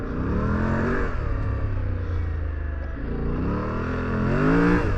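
A 2025 Yamaha Tenere 700 adventure motorcycle engine revs up and down in smooth, rising and falling sweeps, loud and close, with a brief dip before a final climb.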